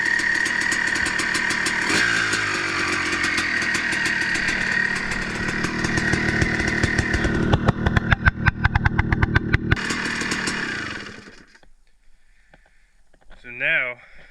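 A freshly rebuilt KTM motorcycle engine runs after its first start, a loud, buzzy two-stroke-like drone that revs and sputters in rapid pops before cutting out, leaving near silence and a brief squeak.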